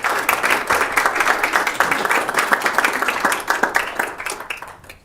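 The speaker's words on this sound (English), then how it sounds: "I'd like to ask that we give the two commissioners another round of" Applause from a meeting room audience at a county commission meeting, a brisk round of many hands clapping close by that holds steady and then tapers off at the end.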